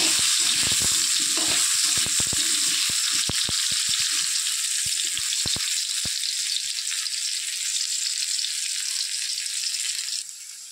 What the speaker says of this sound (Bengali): এই যে আলুগুলো আমার ভাজা হয়ে গিয়েছে,